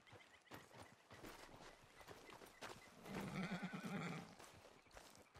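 Horse hooves clip-clop on the ground in the Red Dead Redemption 2 video game, with a whinny and snorts mixed in, steady and fairly close throughout.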